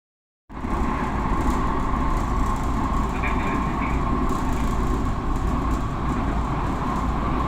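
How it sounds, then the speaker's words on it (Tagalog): Steady low rumble and hum inside a moving Manila LRT light rail train, with a constant tonal whine and rattling, continuous throughout without voices. "ito yung loob ng LRT"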